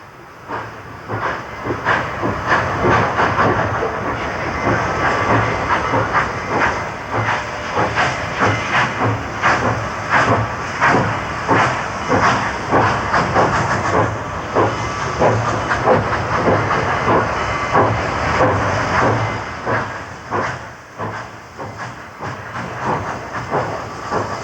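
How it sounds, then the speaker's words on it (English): A 2100 class 4-8-2 steam locomotive pulls out of a rail yard, loud and near, with rhythmic hissing exhaust chuffs and clanking that build as it gathers speed, steady under no talk. "a muscular 2100 class 482 may start slow, but develops a full head of steam on the way out of the yard"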